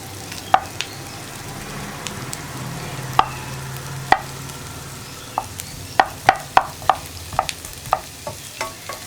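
Potato stir-fry (mezhukkupuratti) is stirred in a pan over a low flame: a quiet, continuous sizzle under repeated sharp spoon taps and scrapes, which grow quicker and more rhythmic toward the end.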